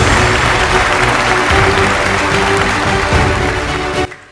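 At an awards ceremony, a large audience claps loudly and steadily for about four seconds before the applause cuts off abruptly.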